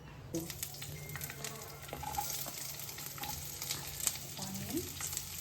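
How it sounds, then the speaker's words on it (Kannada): Onions frying in hot oil, with a close crackling sizzle and occasional stirring scrapes and clinks that stay at a low, steady level and are heard alone, without speech. "ಆಯಿಲ್ ಸ್ವಲ್ಪ ಬಿಸಿ ಆದಮೇಲೆ ಈರುಳ್ಳಿನ ಹಾಕೋಬೇಕು."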